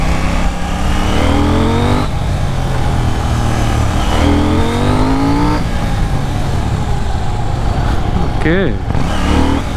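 A KTM Duke 790 motorcycle engine revs repeatedly up close, with rising and falling pitch sweeps through each gear-like climb over a loud continuous engine drone, and a brief spoken word heard over it.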